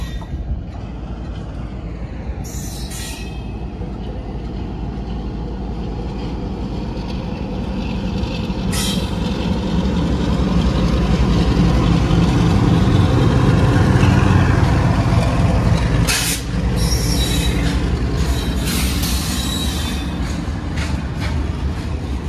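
The 13151 Kolkata–Jammu Tawi Express runs along its line, heard as a continuous low rumble and rolling roar from on board that swells in the middle, with occasional higher squeals and clanks.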